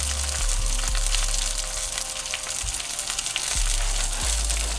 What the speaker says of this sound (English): We've got our Canadian bacon frying up in the pan